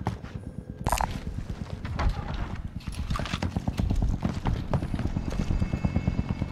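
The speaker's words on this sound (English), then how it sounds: "I hear footsteps behind us" Rapid, continuous footsteps patter under a dense game soundscape in a battle royale video game, steady and fairly close, with a couple of brief tonal blips and no talk.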